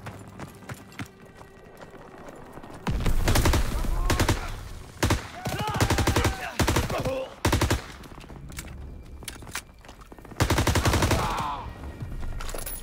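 Bursts of weapon fire in the World War II shooter game Call of Duty WW2, loud automatic volleys and rapid shot strings alternating with brief lulls, with voices in the background.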